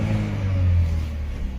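A 2018 Chevrolet Malibu with a 1.5L turbo engine, recently repaired for a P2138 fault, revs up nearby, a steady, loud engine drone swelling and holding for under two seconds with no talking.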